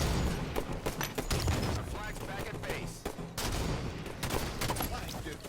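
Rapid gunfire crackles through a Halo competitive match: dense bursts of shots and booms from the game, steady and loud, with a commentator talking over the action.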